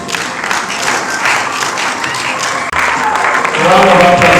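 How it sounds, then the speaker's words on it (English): Applause from an audience at an indigenous award ceremony, steady and close, swelling louder near the end. "A round of applause, please."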